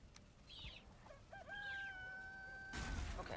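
Hens clucking in the video game Valheim, a few short bird calls and pitched squawks rising and falling over a quiet background, ending in a brief rustling burst.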